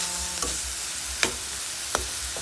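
Chili paste and pork are stir-fried over a constant soft sizzle, with three sharp spatula scrapes spaced about a second apart, close and fairly quiet.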